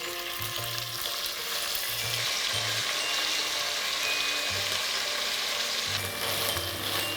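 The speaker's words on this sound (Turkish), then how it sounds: "Etlerimi yağda, ısıttığım yağda ilk önce mühürlüyorum." Lamb pieces sear in hot oil with a dense, steady sizzle that carries on throughout at moderate loudness, with faint low hums and occasional stirring underneath.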